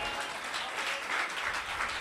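A church congregation claps during a Tamil praise and worship service, giving dense continuous applause from many hands throughout, with no talk over it.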